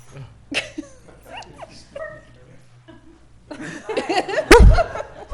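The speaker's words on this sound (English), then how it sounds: "Please bark." At an Emeryville, California city council meeting, a dog being sworn in as a canine officer gives a short bark and whimper near the end, after quiet room sounds, with a ripple of chuckling and laughter from people nearby.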